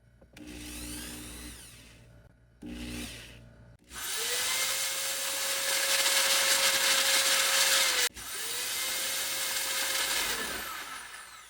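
A power drill bores into the casing of a Breville machine, first in two short bursts and then in two long, loud, whining runs, with a brief stop between them.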